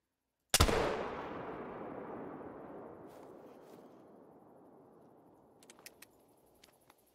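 A single loud muzzle loader rifle shot in theHunter: Call of the Wild, a sharp crack followed by a long rolling echo fading over several seconds, with a few faint clicks near the end.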